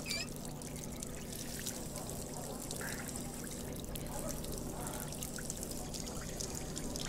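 Virtual water poured into a cup in the VR game Job Simulator, a soft steady trickle running for several seconds at low level.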